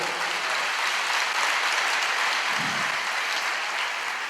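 Applause from a church congregation rolls on as a dense, even wash of clapping, fairly loud and continuous throughout, with no speech on top.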